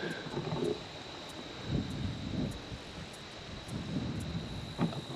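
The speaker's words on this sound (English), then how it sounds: "it's super windy out today" Strong wind gusts roar and buffet a microphone outdoors behind high tunnels on a farm, a steady broadband rush rising in waves with no talking.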